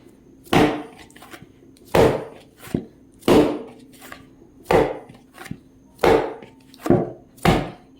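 Chapati dough thrown down and kneaded by hand, giving about eight sharp, close slapping thuds at roughly one-second intervals, with no talking.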